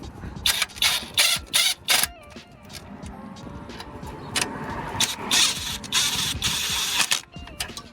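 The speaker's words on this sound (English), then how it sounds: "I've just adjusted the torque on the torque gun just down to pretty much next to nothing. So I'm just going to spin these in just quickly." A torque gun set to very low torque spins bolts into a Vauxhall Corsa D wheel hub during drive shaft work, giving several short, loud whirring bursts close by, then a longer, steadier run of rattling mechanical noise.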